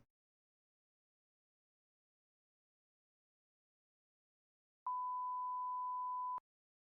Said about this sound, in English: There's your beep. Enjoy your beep.